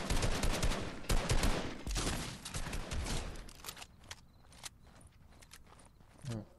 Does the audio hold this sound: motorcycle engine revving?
no